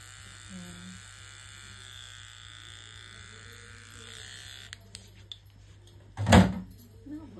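An electric hair trimmer cutting a little girl's hair at home hums in a steady, close buzz for several seconds before stopping, followed by a single sharp knock.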